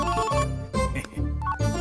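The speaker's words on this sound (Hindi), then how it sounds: "अरे इसे कोई साइलेंट मोड पे रख दो। रिंगटोन भी मुझे उसकी टोन में सुनाई दे रहा है।" A phone ringtone plays a repeating melodic pattern, loud and close, in several short phrases with no talking.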